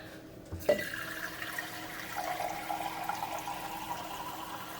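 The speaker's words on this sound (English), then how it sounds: "So now I'm going to add water to fill because I want to cover the beans." Water pours into a pot of black beans in a steady, close splashing stream that starts abruptly and keeps running, with no talking.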